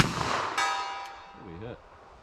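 A .45 ACP or .44 Special bullet strikes a steel target downrange with a sharp metallic clang that rings and fades over a second or so, followed by a short low murmur of a voice.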